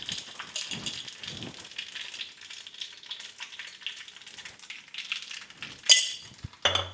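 Cumin seeds, added with mustard seeds to hot oil, sizzle with a steady close crackle. A louder burst of sizzling comes near the end, followed by a brief low knock.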